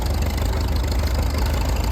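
A 1939 M tractor pulling a John Deere trip plow runs with a steady, dense engine rumble at close range, loud and continuous with no talk over it.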